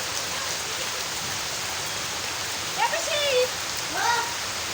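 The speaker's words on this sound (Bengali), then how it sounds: "ছাদ দিয়ে জল পড়ছে" Rain water pouring off a roof, a steady loud hiss of falling water throughout, with a few brief bird-like chirps near the end.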